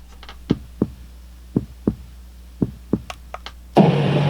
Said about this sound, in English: Oh, that's an ultrasound.